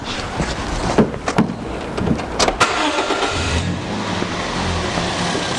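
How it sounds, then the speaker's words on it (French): A car engine is started for a battery boost, with a few sharp clicks and knocks at first, then settling into a steady, moderately loud running hum. "Suite à ça, la voiture est démarrée"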